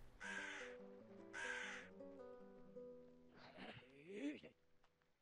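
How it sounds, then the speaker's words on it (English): Crows caw in the Elden Ring video game, two loud harsh bursts early on, then further calls over a low sustained musical drone, with a player talking intermittently. "Oh, fuck birds."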